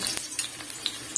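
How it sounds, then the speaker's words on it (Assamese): Onions and green chillies frying in hot oil in a wok, a steady close sizzle with crisp crackles and a few sharper pops, no voices. "তেলখিনি আমাৰ গৰম হৈ গ'ল এতিয়া দিছোঁ পিঁয়াজ আৰু জলকীয়াখিনি"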